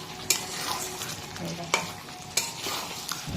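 Mutton curry being stir-fried in a pan, a low steady sizzle with a few sharp scrapes and clanks of a spatula against the metal, close and moderately loud, no talking.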